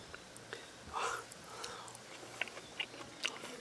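A hard snack being chewed, heard as faint close crunches and bites in a quiet setting, with soft whispered talk around it.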